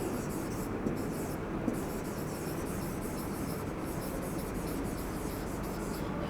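Pen or pencil scratching steadily across paper in a quiet classroom, a continuous soft rasp that runs throughout with no talking.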